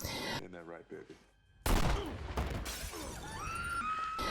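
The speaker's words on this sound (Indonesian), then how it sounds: "Baby tiba-tiba mengeluarkan senjata dan menembak Buddy tepat di arah dadanya." A gunshot in the film Baby Driver, as Baby fires at Buddy's chest: a sudden loud crack breaks a quiet stretch, followed by a dense crashing, shattering burst and lingering film sound.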